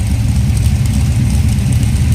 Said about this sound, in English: Idle smooth, the engine runs smooth.